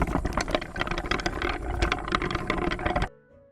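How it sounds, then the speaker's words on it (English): A wooden cart rolls over cobblestones, a dense continuous rumble of wheels and rattling clatter for about three seconds, then it cuts off abruptly to a quiet tail. "which is actually a wooden cart riding on cobblestone"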